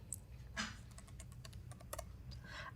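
Quick, light keystrokes patter on a computer keyboard while a search command is typed into a PowerShell prompt, irregular soft clicks, close and quiet, with no one speaking.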